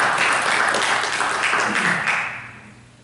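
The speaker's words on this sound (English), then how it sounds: "So definitely a round of applause for our faculty and staff and our colleagues." An audience applauds school faculty and staff at an assembly, a dense burst of clapping that fades away toward the end.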